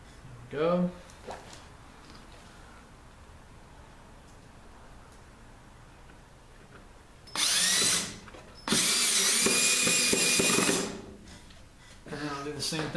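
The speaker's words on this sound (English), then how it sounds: "I'm going to drill one more pilot hole on this side." A cordless power drill bores pilot holes into a wooden hexagon game table in two bursts, one short and one longer high whine, close and loud, with someone talking before and after.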